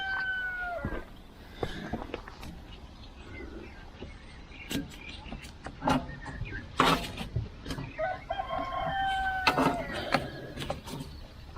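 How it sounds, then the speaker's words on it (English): Roosters crow and cluck around a farmyard where a mini excavator is being repaired, with repeated calls, some near and some farther off, and scattered clicks and knocks in between. "Crows all day, does he?"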